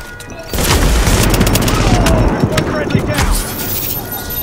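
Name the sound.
gunfire from guns in The Division video game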